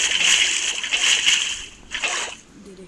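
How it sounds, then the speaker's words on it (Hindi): Water splashing and sloshing as a bucket is filled in a survival crafting video game, two bursts of splashing close and loud, the second shorter, fading toward the end. "चलो अब मैं फटाफट से भर लेता हूँ यहाँ पूरी आयरन, मतलब पानी भर लेता हूँ"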